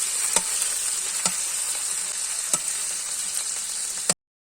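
Steady close sizzle of vegetables and garlic frying in a pan on a stove, dotted with occasional sharp pops and stirring clicks, then cutting off abruptly at the end.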